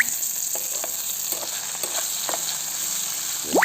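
Vangi bath ingredients fry in hot oil in a Karnataka-style home kitchen, giving a steady close sizzle with faint stirring scrapes throughout and a slightly louder burst at the end.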